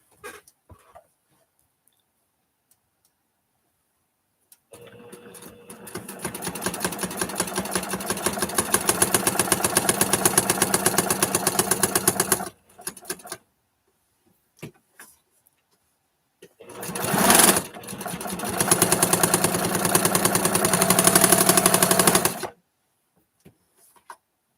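A sewing machine stitching a fall table runner runs in two long bursts of fast, even whirring, separated by a quiet pause and a few short starts.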